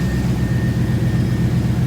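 A steady low engine drone from a Firebird runs without pause, loud and close, holding a constant rumble with no clear rise or fall in pitch.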